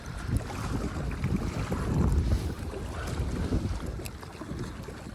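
Strong, gusty wind at Caples Lake roaring across the microphone in heavy low rumbling surges, with no voices heard.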